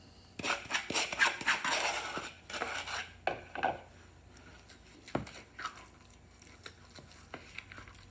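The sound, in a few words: mixing egg yolks with granulated sugar in a bowl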